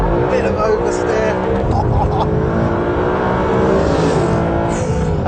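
A Mercedes SLS AMG Black Series is driven hard on a race track through a final corner with a bit of oversteer, its engine roaring loud and steady throughout, with a voice talking over it.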